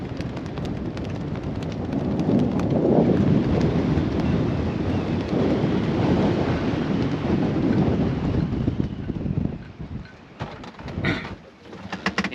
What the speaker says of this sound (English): It got very, very windy.